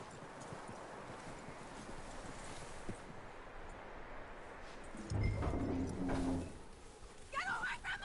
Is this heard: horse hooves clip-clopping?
yes